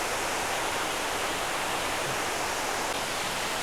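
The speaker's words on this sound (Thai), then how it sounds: "น้ำตกตาดใหญ่ ดูครับ สวยงามครับสวยงามเป็นชั้นๆครับ" Tat Yai waterfall, a tiered cascade at Nam Nao in Phetchabun, roars as a dense, continuous rush of falling water, close and loud and steady throughout, with no voices.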